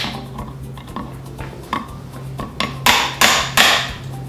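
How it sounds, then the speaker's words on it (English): Three loud metallic hammer smacks close together near the end, tightening a gear oil drain plug, preceded by lighter clinks and taps of tools over a steady low hum. "Give it a couple good smacks."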